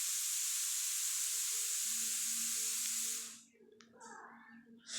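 Meat and spices sautéing in a pan for a meat curry make a loud, close, hissing sizzle that cuts off abruptly after a few seconds, leaving quieter sounds and a faint voice.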